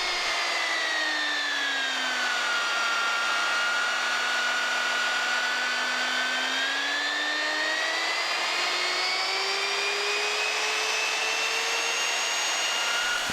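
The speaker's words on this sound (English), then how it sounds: "the sander to reach full speed before placing it on the workpiece" A Triton TA1200BS 76mm belt sander whines at full speed, a steady high motor drone that slowly dips and rises in pitch, loud and close with no talking.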